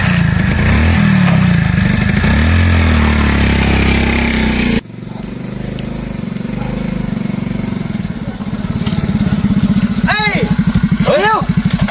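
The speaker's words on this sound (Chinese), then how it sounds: "开摩托车又不打喇叭" A motorcycle engine runs loud and near on a rural village path, a steady rough drone that cuts out briefly and then returns with pulsing revs, while voices talk over it.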